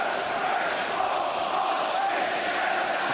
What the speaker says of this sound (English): The crowd counting out the paces to accompany Mark Halsey's theatrical march